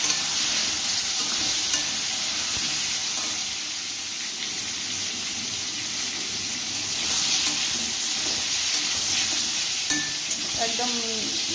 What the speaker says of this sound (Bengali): সবগুলো পটলকে একবারে আমি দিয়ে দেবো দিয়ে হালকা ঢাকা দিয়ে ভেজে নেব